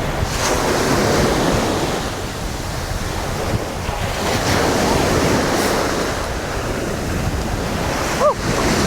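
Mediterranean Sea waves wash onto the shore at Malaga, Spain, a continuous roar of surf with wind buffeting the microphone and a brief higher squeak near the end.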